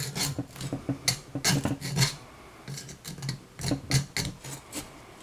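Rust is scraped off a 1994 Saab 9000 AC condenser fan mounting bracket in a series of irregular, rasping strokes, close and moderately loud, with short pauses between bursts.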